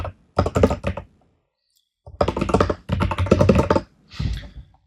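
Rapid bursts of typing on a computer keyboard while writing code, dense clattering keystrokes in several runs separated by short pauses, close and loud.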